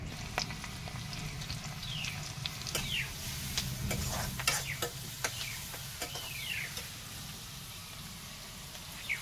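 Ginger and garlic fry in hot oil and are stirred around the pan. The sizzle is steady and close, with crackling pops and rhythmic spatula scrapes throughout, and no speech.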